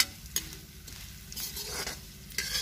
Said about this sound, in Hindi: उर्दियों को हमें मीडियम आंच पे भूनना है, तेज आंच पे नहीं भूनना है, धीमी धीमी आंच पे भूनना है।